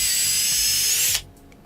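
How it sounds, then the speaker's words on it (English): A power drill bores out a hole in a part for an RC monster truck, whining at a steady high pitch for just over a second before cutting off to quiet handling noises. "we're going to have to drill this out right here"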